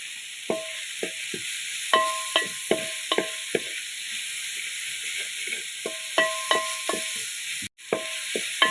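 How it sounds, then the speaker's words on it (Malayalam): Large tomatoes with salt sautéing in a pan for a chicken curry, a steady soft sizzle broken by repeated scraping stirs in clustered bursts, close and with no talking. "അത് വലിയ തക്കാളി നല്ലൊന്ന് വഴറ്റിയെടുക്കാം ഉപ്പും കൂടി ഇട്ട് കൊടുക്കാം"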